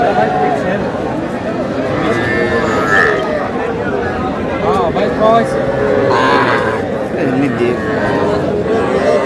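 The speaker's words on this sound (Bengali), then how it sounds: "ষাঁড় বাচ্চা।" Bull calves moo repeatedly at a busy Cumilla cattle market, several loud calls rising over constant crowd chatter and bargaining voices close by.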